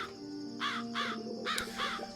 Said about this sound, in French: Putain, les corbeaux.